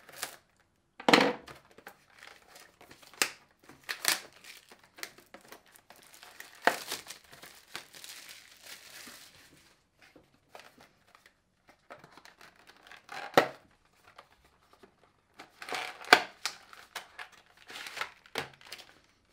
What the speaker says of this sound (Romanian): vom despacheta acum hardul. Hai să vedem ce avem aici. E foarte bine sigilat. E într-o folie din asta de plastic.